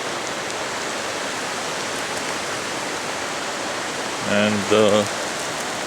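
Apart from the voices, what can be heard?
Ivan Thomas Creek flowing water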